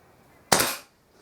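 A single sharp Kral NP02 air rifle shot fired freehand, a near, loud crack with a short decaying tail, followed by quiet.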